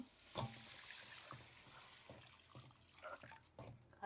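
Water trickles and splashes during cooking, close and fairly quiet, with irregular pours and drips that come and go over a few seconds.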